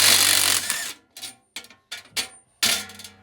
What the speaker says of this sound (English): Take impact wrench and then go.